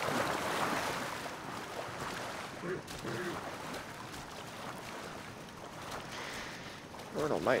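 Splashing and sloshing water as a character runs through a river in Assassin's Creed Origins, a continuous, close wash of churning water with voices talking over it.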